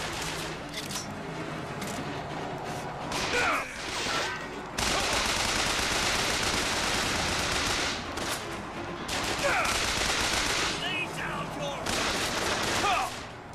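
Gunfire in BioShock Infinite, with repeated bursts and rapid volleys of shots over a constant loud background of combat noise.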